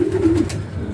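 Young ringed pigeons coo softly in a low steady hum for about half a second, then fade into quiet handling sounds.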